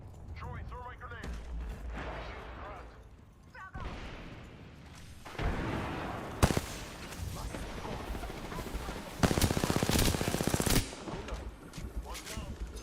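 Gunfire in an Apex Legends match, with bursts of automatic shots and heavier blasts rising and falling across the scene. Voices talk over the steady battle noise throughout.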